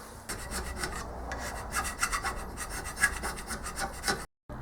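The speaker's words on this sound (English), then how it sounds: "I've scraped in the pads, the top and the back side of it" Metal pads on a machine part being hand-scraped while a protractor and downslide are machined. Quick, rhythmic rasping strokes run steadily at close range and stop abruptly near the end, with no talking.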